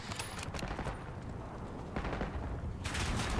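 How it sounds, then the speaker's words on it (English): Gunfire from Adler in Call of Duty Black Ops 6, bursts of shots at moderate distance, dense and continuous with brief gaps and a louder burst near the end. "Oh, that's Adler shooting over there."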